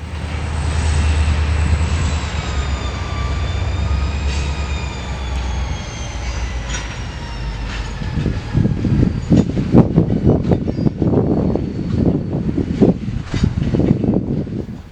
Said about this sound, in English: another SD40-2 pulling a rather long cut of cars